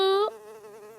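Cartoon mosquitoes buzzing in a steady, whiny drone, loud at first and then dropping to a softer, wavering hum for the rest of the moment, with no voices.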